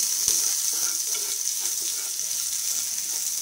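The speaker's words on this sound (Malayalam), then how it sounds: "ഇനി ഞാൻ അതിലേക്ക് നമ്മുടെ ചതച്ച് വെച്ചിരിക്കുന്ന തേങ്ങയും കൂടി ചേർത്ത് ഒന്ന് വഴറ്റുകയാണ്" Crushed coconut sautéing in a pan after a tempering, a bright steady hiss of frying with a few light stirring clicks near the start, and no one talking.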